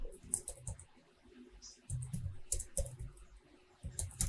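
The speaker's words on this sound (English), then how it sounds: "So over here now, I can manually type in what I want here." Keys tapped on a computer keyboard while data is entered into an Excel spreadsheet, with quick bursts of clicks separated by short pauses. The sound is close and moderately quiet, and no voice is heard.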